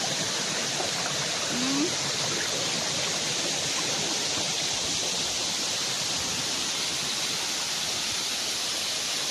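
Steady rushing water from a stream, a dense continuous wash of noise with no breaks and no one speaking.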